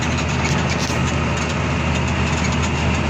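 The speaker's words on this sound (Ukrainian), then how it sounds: "Трактор Джондір 8410." A John Deere 8410 tractor engine runs at a snowy farm during trailer loading, a loud, steady, close drone with no break across the whole stretch.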